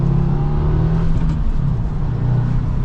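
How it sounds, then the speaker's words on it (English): A 2024 Subaru WRX TR engine hums steadily with low tonal drone, rising slightly as the car accelerates, heard from inside the cabin; no talking. "All right, setting off now in the WRX."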